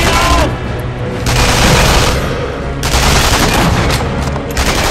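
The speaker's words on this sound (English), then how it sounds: "being shot at by things" Gunfire aimed at the player in Sniper Elite V2, loud dense bursts of shots and booms that come in waves over a steady rumble of battle, with a voice heard under the fire.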